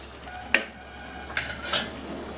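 A metal lid is set on a pot of Bengali ridge gourd, potato and prawn curry with coconut, giving three quiet clanks and rattles against a soft kitchen background, with no talking.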